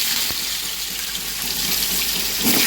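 Raw green banana and potatoes drop into hot oil tempered with cumin, giving a steady, close, broadband sizzle that swells slightly toward the end.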